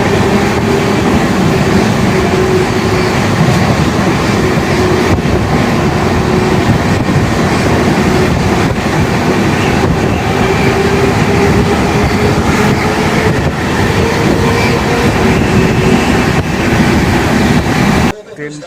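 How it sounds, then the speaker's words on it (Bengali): A train runs along its track beside hills, a steady, loud, continuous rumble with faint rattling through the whole stretch, stopping abruptly at the very end. "ট্রেনটা ভালোভাবে চলছিল,"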